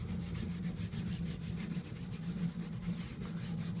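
A Koosa whitewall machine's 25mm buffing disc scrubs a tyre at slow speed, giving a steady, close rubbing drone with a faint pulsing texture and no voices.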